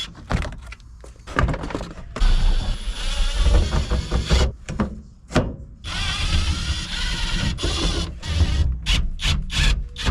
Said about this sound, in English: before removing the carpet, we gotta remove all of the trim panel